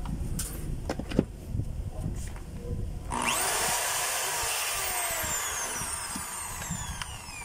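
A power tool that has just had its carbon brushes replaced starts up partway through, a loud high whine rising and holding steady up close, after a few clicks and handling knocks.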